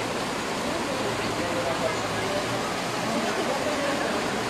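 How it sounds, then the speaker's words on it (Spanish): Floodwater rushing down a street in Ecatepec during extreme weather, a steady broadband roar of flowing current with faint voices mixed in underneath. "Está bajando mucha agua, chicas. Mucha agua. De verdad viene con una corriente."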